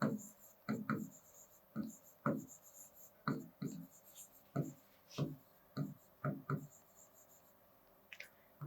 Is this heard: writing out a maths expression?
yes